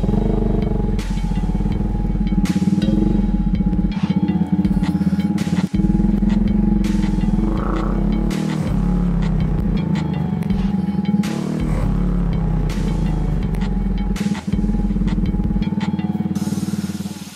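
250cc heavy motorcycle on a road test ride, its engine droning steadily and loud throughout with continuous low rumble and road noise, no talk.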